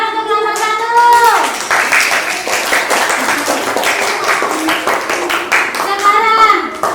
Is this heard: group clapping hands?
yes